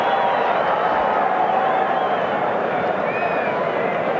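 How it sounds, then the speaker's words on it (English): A stadium crowd at a South Africa versus Wales rugby match gives a sustained ovation, a broad, steady roar of cheering and clapping with commentary over it. "gets a huge ovation from the crowd"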